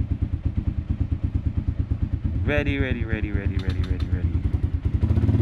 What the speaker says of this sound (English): Choke on, bike on.